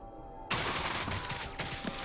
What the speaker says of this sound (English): we're going to get much closer to them and then hose everyone down with an SMG